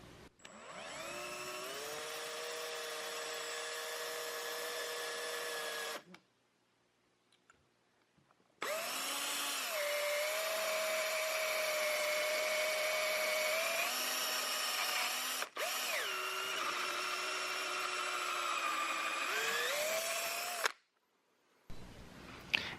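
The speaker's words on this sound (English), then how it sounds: "So next we'll go ahead and drill those out." A power drill with a 7/64 inch bit bores through aluminum trim on an RV slide topper awning install, giving three long, loud, steady whining runs of several seconds each, separated by short pauses.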